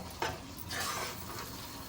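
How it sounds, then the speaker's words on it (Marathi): A spatula mixes cardamom powder into sweet shev and melting sugar in a pan, giving a steady, soft sizzling hiss with a few light scrapes and no talking. "फक्त वेलची पावडर घालूया आपण मिक्स करून घ्यायचे"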